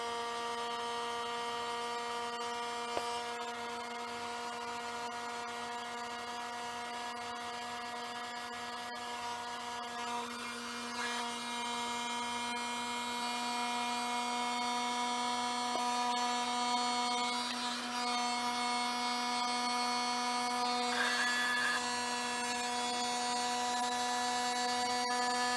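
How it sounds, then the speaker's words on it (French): A heat gun warms the end of a plastic tube to soften it while a watering can is being modified, giving a steady, droning motor whine with a strong tonal hum that holds unbroken throughout and carries no speech. "Et on va chauffer avec le décapeur, on chauffe le bout de plastique pour le ramollir."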